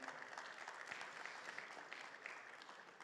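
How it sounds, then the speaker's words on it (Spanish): A church congregation gives a steady round of applause during a Spanish-language service, a faint, distant wash of clapping with no voices. "Puede sentarse dándole un fuerte aplauso a ese Rey de Gloria"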